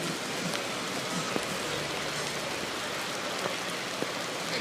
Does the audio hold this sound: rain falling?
yes